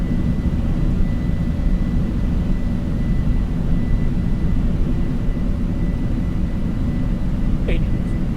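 Boeing 747 jet engines at takeoff thrust heard from the cockpit during a night departure from Frankfurt, a steady dense roar that stays constant throughout, with a faint brief chirp near the end.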